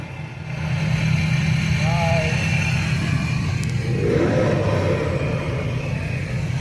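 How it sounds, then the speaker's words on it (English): A Ford Super Duty pickup at a truck show idles with a deep, steady exhaust rumble close by, its low throbbing tone holding evenly throughout, with faint background voices. "Cool sound of a Ford Super Duty."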